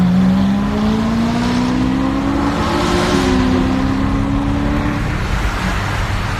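Nissan GTR roll race at night with cars revving and accelerating hard, a loud, sustained engine roar with a rising pitch that holds steady near the middle, then eases off.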